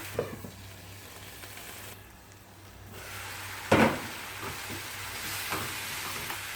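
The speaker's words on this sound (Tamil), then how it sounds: "பூண்டு, இஞ்சி எல்லாம் சேர்த்து அரைச்சது. பச்சை வாசனை போக வதங்கணும்." A ground garlic, ginger and onion paste sautés in oil for a chickpea masala, a faint, soft hiss with a brief louder clatter of stirring partway through and some quiet scrapes afterward.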